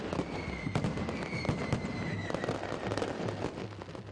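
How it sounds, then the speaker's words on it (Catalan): Fireworks and firecrackers burst in quick irregular bangs and crackles over a steady crowd murmur, fairly distant and moderately loud, at a Holy Week festival in Torrent, Spain. "s'ha explosionat la pólvora"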